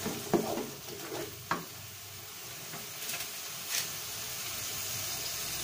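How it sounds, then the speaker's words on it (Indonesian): Sambal for oseng-oseng mercon stir-fried in a pan, with a soft steady sizzle under a few sharp spatula scrapes and taps, close but quiet. "Tumis terus sampai si sambalnya matang."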